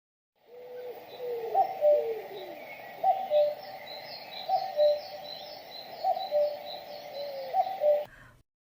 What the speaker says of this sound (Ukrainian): Зозуля.